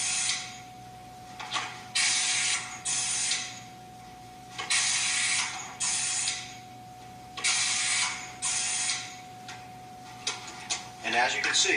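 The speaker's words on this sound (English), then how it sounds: "At this point, you simply load the potato, and once you bring this forward and close it, it will push it through" Pneumatic automated potato cutter forcing potatoes through a 3/8-inch fry blade set, heard as repeated loud hissing bursts of air with mechanical clunks, cycling every second or two over a faint steady tone.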